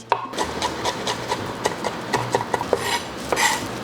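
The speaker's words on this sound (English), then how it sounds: "Let's start from chopping the garlic." Rapid, irregular knife taps chopping garlic cloves on a wooden board, close and crisp, with a scraping rub between strikes and no voices.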